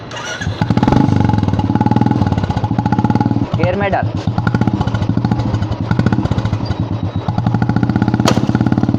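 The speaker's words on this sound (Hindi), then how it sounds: "तो गाइज एक बार आपको स्टार्ट करके दिखाते हैं बाइक में कैसी नॉइज़ आ रही है।" A Royal Enfield motorcycle with a worn chain set idles loud and close, its steady low thumping mixed with a rhythmic clattering rattle, while someone speaks over it briefly.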